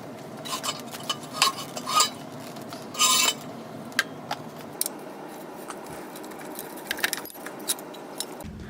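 Metal tools clink and jangle in scattered bursts while work begins on the bash plate of a KTM 200 XC-W dirt bike, with short rattles and taps against a quiet background.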